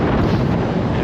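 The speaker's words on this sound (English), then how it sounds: "I hope you can hear me because it's very windy" Heavy wind buffets the microphone outdoors along the Grand Union Canal, a dense, continuous low roar that fills the whole moment with no other sound.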